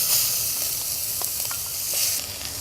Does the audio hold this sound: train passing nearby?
no